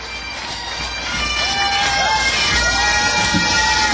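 A crowd at an outdoor stage event for the Olympic torch relay in Perthshire builds into a loud, sustained cheer. It swells after the first second and stays up with scattered whistles and shouts.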